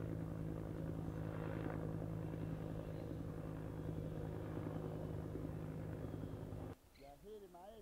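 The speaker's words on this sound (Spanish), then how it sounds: "Así pasan los helicópteros." A helicopter drones steadily with a loud rotor and engine rumble, present from the start before cutting off abruptly near the end, where a voice begins talking.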